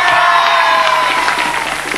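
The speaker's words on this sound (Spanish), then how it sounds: "Un aplauso para la tribuna" A crowd in the stands at a live concert applauds and cheers, a loud, dense mix of clapping and shouting voices that holds for the full two seconds.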